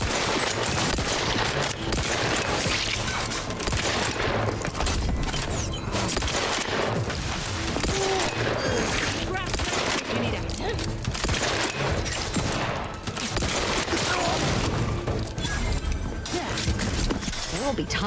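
Dense, continuous gunfire from a firefight in the video game The Outer Worlds 2, with rapid shots, impacts and game sound effects layered into a loud, unbroken wall of noise.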